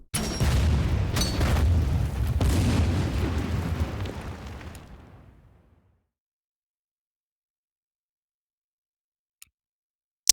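Artillery bombardment in the Order of Battle strategy game: a loud, rumbling burst of explosions lasts about four seconds, then fades into silence, broken only by a couple of faint clicks near the end.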